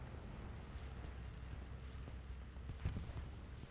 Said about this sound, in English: Yeah, that's a Syndicate bombing run over hard cap.